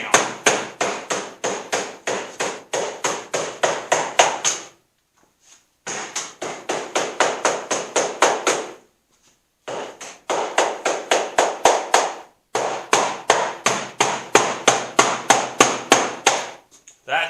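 Rapid bursts of hammer blows on a metal bar, struck in quick regular runs of about a dozen hits each with short pauses between, loud and close while bending it down on the floor of a poultry egg trailer.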